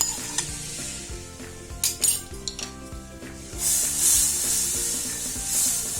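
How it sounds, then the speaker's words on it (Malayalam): Homemade condensed milk stirred in a pan over low heat, with a utensil scraping and clinking against the pan in uneven strokes and a steady sizzling hiss rising in the second half, close and moderately loud, no talking. "ഏറ്റവും സ്ലോയിലിട്ട് നമ്മൾ ഇളക്കി കൊടുക്കണം."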